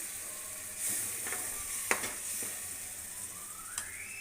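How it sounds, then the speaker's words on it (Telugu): Soaked tamarind water goes into a pan of sizzling onion paste and chili powder while a green chili curry cooks, giving a steady hiss with a few sharp bursts and clinks, moderately close and with no talk. "ఇప్పుడు ఇందులో చింతపండు నానబెట్టాను కదా చేసిన పులుపు వేసేస్తున్నాను"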